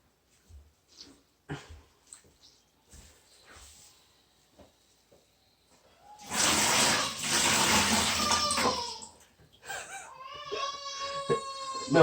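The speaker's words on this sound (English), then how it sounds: "And then just squeeze the water out like that." Water splashing and trickling as it is squeezed out while emptying a toilet bowl during toilet removal, a loud wet gush in the middle after faint handling knocks, followed by a whining, whimpering sound and dripping.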